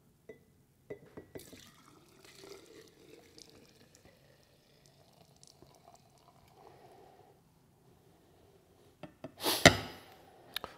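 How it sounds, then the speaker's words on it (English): Liquid soap wood finish is decanted into a jar, with faint sloshing and small clinks before a louder, brief pour and splash near the end, close and otherwise quiet. "And then we'll just decant this into a jar, hopefully without spilling it too badly."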